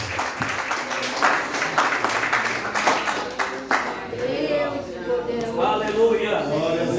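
A congregation applauding during a church service: dense clapping fills the first half, then fades as a voice speaks over the remaining patter.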